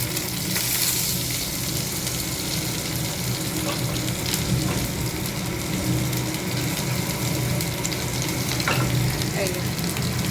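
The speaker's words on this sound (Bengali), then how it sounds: "এই যে আলুটা ভেজে নিচ্ছি, ছোলার ডালে দেবো" Potatoes frying in oil in a pan for chana dal, a steady loud sizzle with occasional stirring scrapes.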